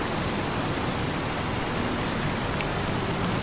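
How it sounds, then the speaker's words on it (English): Steady rain pours in the Farming Simulator 25 video game on the Westbridge Hills map, a dense continuous hiss with no breaks, even in loudness throughout and with no voices over it. "Oh no, not more rain."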